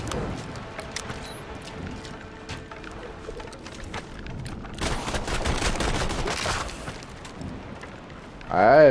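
Enemy gunfire in a video game: scattered shots early on, then a dense burst of rapid fire in the middle, ending with a loud, close sweep.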